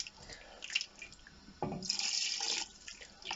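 Water poured from a tap or jug into a pot of beef stew with stock and meat, a steady splashing pour that starts abruptly partway through and runs on, close and fairly loud with no talking.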